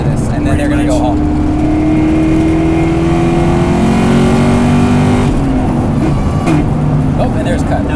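A 2004 Mustang Cobra engine holds a loud, steady high-rpm rev on two-step launch control, then abruptly cuts out, with crackle and idle following, while people talk nearby.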